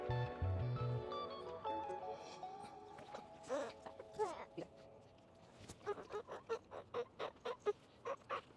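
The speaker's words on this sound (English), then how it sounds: "You see that chicken?" A chicken clucks in a run of short, evenly spaced bursts near the end, following a stretch of voices and household noise at moderate distance.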